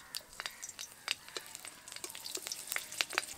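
Nigella seeds and green chillies tempering in hot oil, quick scattered pops and crackles over a faint steady sizzle, becoming busier and louder toward the end, heard up close with no talking.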